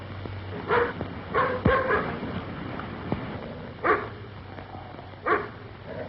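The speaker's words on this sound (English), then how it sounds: "Is that your dog? Yes, why? What's he barking for?" A dog barks in a few separate bursts spread across several seconds, somewhat distant, with quiet gaps between, from a 1937 film.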